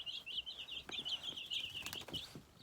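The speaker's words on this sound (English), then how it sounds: "Do you like the baby chickens, Charlotte?" Chicks peep in a steady, high-pitched chorus of chirps, close by and continuous, with a few soft scratchy taps underneath.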